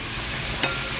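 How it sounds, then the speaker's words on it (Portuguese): Sirloin steak seasoned with garlic and salt fries in a pan, giving a steady close hiss of sizzling fat with a brief sharper crackle partway through. "aqui eu tô fritando contra filé"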